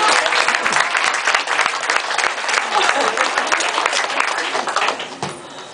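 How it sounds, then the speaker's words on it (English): Loud, dense applause from a sizeable audience, steady throughout and tapering slightly at the end. "So a round of applause for them."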